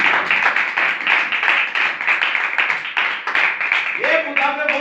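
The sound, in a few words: congregation applauding loudly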